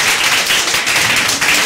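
A church congregation claps loudly and steadily to acclaim the Lord, a dense close wash of many hands with no voices above it.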